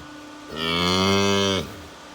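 A cow moos on a farm: a single loud, close, drawn-out moo lasting about a second, rising out of quiet background noise.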